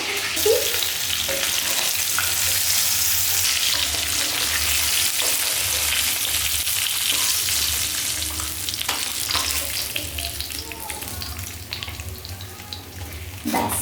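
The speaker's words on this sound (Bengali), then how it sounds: "এবার এগুলোর মধ্যে আমি একটু হলুদ আর নুন দিয়ে মেখে ফ্রাই করে নেবো" Pieces of rohu fish coated with turmeric and salt fry in hot oil in a kadai, a loud, steady, dense sizzle that eases slightly over time, with occasional clinks from stirring.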